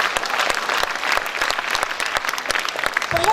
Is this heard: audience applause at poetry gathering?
yes